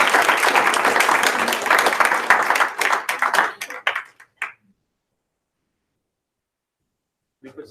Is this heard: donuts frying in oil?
no